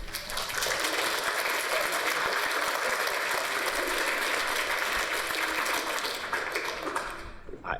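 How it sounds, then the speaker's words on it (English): Sustained audience applause fills a debate hall at Temple Judea in Tarzana, California, a dense, steady wash of many hands clapping that holds loud throughout before tapering off at the very end. "I would really like to ask people not to applaud"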